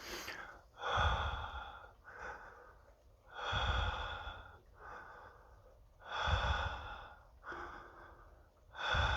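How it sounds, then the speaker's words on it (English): Gentle breaths are pushed in and out through a harmonica while practising the major scale, producing soft, airy reedy tones. Slow alternating breaths swell and fade in a steady rhythm of roughly eight bursts, close and alone. "I'm breathing. So that's what I'm doing through the harmonica."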